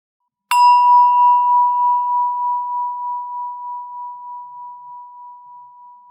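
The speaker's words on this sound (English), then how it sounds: "Every time you hear the bell, notice where your attention is." One struck meditation bell rings out clearly at a guided breathing session, a pure sustained tone that fades slowly over several seconds with a gentle wavering pulse, heard alone in silence.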